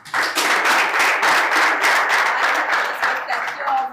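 Audience applause, steady and fairly close, lasting about four seconds with dense overlapping claps and no voice standing out.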